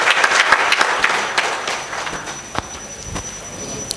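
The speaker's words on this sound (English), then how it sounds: "another round of applause for sir's enlightening address." An audience at a tax conclave's inaugural session applauds an address with a scattered, moderately loud round of clapping that thins out and fades over several seconds.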